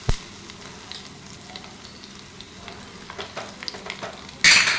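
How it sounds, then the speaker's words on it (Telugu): Crushed onions, three or four of them, dropped into hot oil with tempering seeds, frying in a steady close sizzle while being stirred, ending in a sudden louder hiss. "ఇందులో మనం కచ్చాపిచ్చాగా దంచి పెట్టుకున్న ఉల్లిపాయలు ఒక 3-4 వేయండి"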